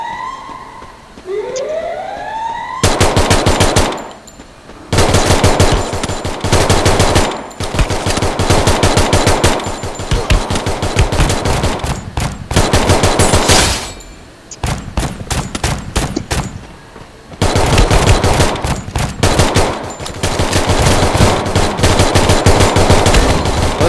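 Loud gunfire from the mobile shooter Free Fire MAX: rapid automatic bursts and volleys repeat throughout, with a brief siren-like rising tone and game effects at the start, and no one talking.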